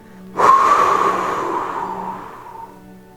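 A long, forceful breath pushed out during a pranayama breathing exercise, beginning suddenly and fading gradually over about three seconds, close and alone.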